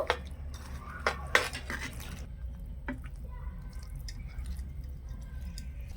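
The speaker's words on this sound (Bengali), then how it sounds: "আমি যে বড়াগুলো ভেজে রেখেছিলাম বড়াগুলো দিয়ে দেব ভালো করে নেড়েচেড়ে একটু মিশিয়ে নেব" Fried boras being stirred into hot sugar syrup in a pot for Bengali pitha: a few sharp utensil clinks against the pot early on, then soft, faint scraping and wet stirring.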